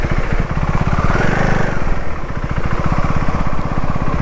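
A vehicle engine idles loudly and close while reversing on a forest road, a steady rough throbbing with slight rises in revs, no voices.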